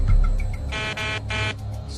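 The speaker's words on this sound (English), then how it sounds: "Can we get the stall warning to sound?" An aircraft cockpit stall warning sounds in a few quick, harsh buzzing bursts over a low engine-like rumble, fairly faint and close together in a rapid repeating pattern.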